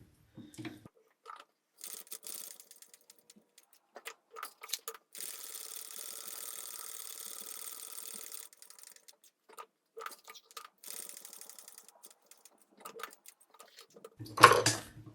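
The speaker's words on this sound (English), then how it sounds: "So I'm going to go ahead and do my second row of top stitching on the back pocket as well" A sewing machine top stitching a second row along the back pocket of a handbag, running in short mechanical bursts with one longer steady run, fairly quiet and close, with a louder handling noise at the end.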